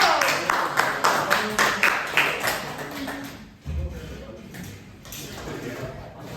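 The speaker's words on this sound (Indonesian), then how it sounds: "Oke, tepuk tangan buat Mas Tido." Applause for a welding student in a welding class, a run of clapping through the first few seconds that fades, with room noise and a brief thump after.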